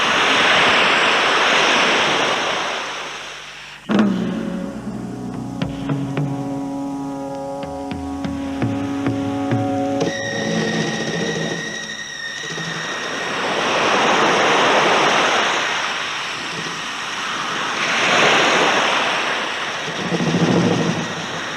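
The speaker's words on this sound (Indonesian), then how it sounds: "Dan gemuruh air yang menggelora terus menghempas-hempas dirinya." Ocean waves crash and surge repeatedly in a radio drama sound effect, with loud roaring swells rising and falling, while a sustained musical chord enters midway.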